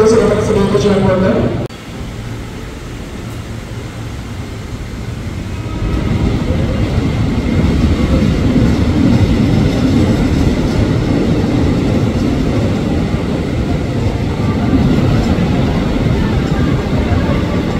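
Commuter electric trains at Cikini station in Jakarta, including KRL JR 205 and TM 7000 sets and a CC 206 locomotive: a brief tone and announcement-like sound give way to a steady, loud rumbling roar of a train passing close by.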